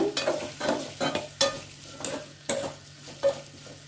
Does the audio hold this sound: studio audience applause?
no